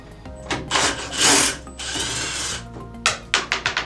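A power drill spins a nut off a 2-inch six-port low-profile pool valve, whirring loud in two sustained bursts and then giving several short clipped pulses near the end.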